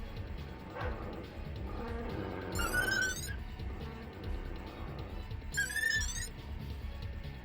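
Dogs whimpering and yelping in the video game Deus Ex as they are hit with tranquilizer rounds, mixed with short bark-like sounds and two high electronic zaps over a steady game background.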